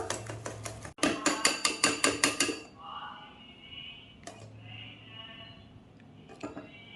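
A whisk or spoon beats an egg and sugar mixture in a bowl, giving a fast run of rhythmic clinking strokes against the bowl at the start, then scattered lighter taps under quieter background sound.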